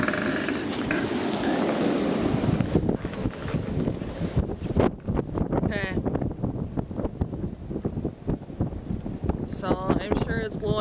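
Blizzard wind gusting hard at an estimated 50 mph outdoors, a loud continuous roar buffeting the microphone throughout, with a voice speaking over it in places.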